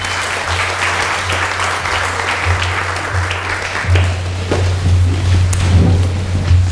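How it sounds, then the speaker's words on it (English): Audience applause at a Chamber of Commerce annual meeting greets the 2023 Chamber President, a steady wash of clapping over a constant low hum, swelling a little louder toward the end. "round of applause for Tammy."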